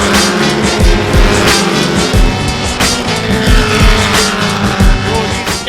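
F2000 and F1600 race cars running on a circuit, with a dense continuous engine roar from several cars at once, loud and steady throughout, with no talking.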